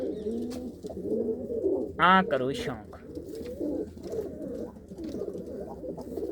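Racing pigeons that have flown long races coo in a steady low murmur throughout, close by, while someone talks over them.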